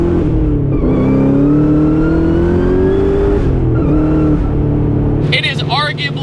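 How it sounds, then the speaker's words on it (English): A Ford Mustang Cobra V8 engine revs loudly and steadily, its pitch climbing through a long pull before easing off, ending with a brief high tire chirp. "It is arguably the best sounding Mustang of all time."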